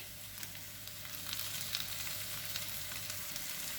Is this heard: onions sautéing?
yes